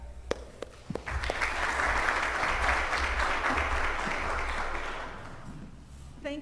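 An audience applauds in welcome of a speaker, Dr. Denise Ney, at a dairy symposium, with broadband clapping building after a second, holding steady and fading toward the end, plus a few sharp thumps at the start.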